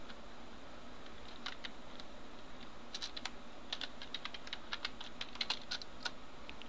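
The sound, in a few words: typing a form name on computer keyboard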